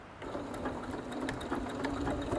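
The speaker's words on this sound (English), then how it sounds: "we're just going to slowly stitch around this curve" A sewing machine starts up and runs at a steady, even hum, stitching outer fabric slowly around a curve, close and continuous.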